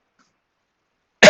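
A single loud, close cough bursts out abruptly after a second of silence.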